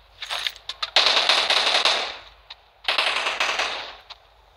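Rapid automatic gunfire from the mobile battle royale game PUBG New State, with a few single shots followed by two long, loud sustained bursts separated by a brief gap.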